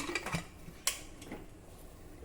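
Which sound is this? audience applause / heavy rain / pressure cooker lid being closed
pressure cooker lid being closed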